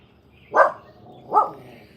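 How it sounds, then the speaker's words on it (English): A crippled dachshund gives two short, sharp barks about a second apart, close and fairly loud against a quiet background. "My crippled dog."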